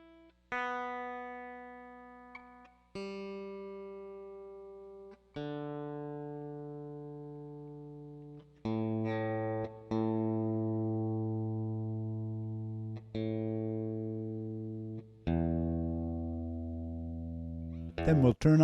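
A guitar played as a series of sustained single notes, each plucked and left to ring before the next, fed live through Sonar 6's built-in software tuner; clean, steady tones, fairly loud, with no talking.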